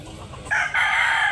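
A rooster at a chicken sale in Consolacion, North Cebu, lets out a single loud, close crow that begins halfway through after a quieter lead-in.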